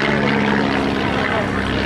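A D112 light propeller aircraft, the club's Delta Sierra, flies past at the Sarlat-Domme air show, its engine a steady, loud, buzzing drone that holds throughout.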